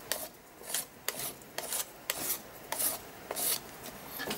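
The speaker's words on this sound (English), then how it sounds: "just pick some up with my top of my palette or the spatula and just scrape it across." A palette knife or spatula scrapes acrylic paint across an art journal page in a series of close, dry, rasping strokes, about eight of them in a steady back-and-forth rhythm.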